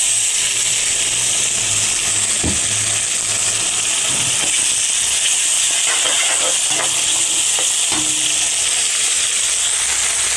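Tomato paste hits chopped onions frying in a pan for a fish roe fry, giving a steady, close hiss and sizzle throughout, broken by a few soft stirring knocks against the pan.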